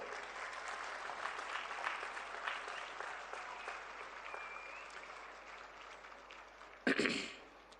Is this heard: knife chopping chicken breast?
no